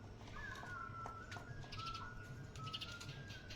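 A pigeon cooing softly in a few drawn-out calls, faint over a low background hum with some light clicks and rustles.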